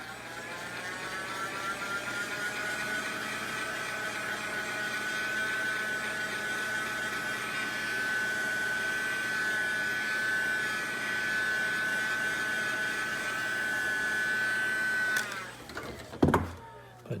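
Handheld dryer blowing continuously over a freshly applied Polycryl coating, a steady whirring hum with a rising whine held for about fifteen seconds before it switches off, followed by a few handling knocks.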